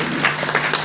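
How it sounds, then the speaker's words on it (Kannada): Audience applause at a women's community programme breaks out as a guest is welcomed onto the stage, a brief, dense burst of many hands clapping close and loud. "ಜೋರಾಗಿ ಚಪ್ಪಾಳೆ ತಟ್ಟಿ ದೀಪಕ್ ಸಾಗರ"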